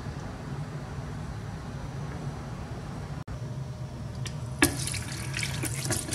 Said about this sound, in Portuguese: Agora eu vou enxaguar para tirar o excesso do corante.